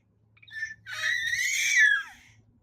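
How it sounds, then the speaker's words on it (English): A baby girl about five and a half months old lets out a short squeal, then a long, loud, high-pitched excited scream that rises and trails off, close to the listener. "Why are you screaming?"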